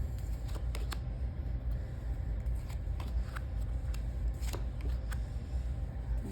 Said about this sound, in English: I leave those and I take out the 2 inside cards.